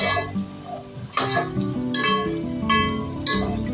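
Ground turmeric, Kashmiri red chilli powder and garam masala sautéing in a pan for dhaba-style Veg Kolhapuri, with a soft sizzle broken by a few sharp spatula scrapes and clinks, close, no talk.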